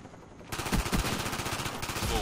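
Dense, rapid gunfire from a Call of Duty Black Ops firefight, a sustained loud automatic burst that begins abruptly and keeps rattling without pause.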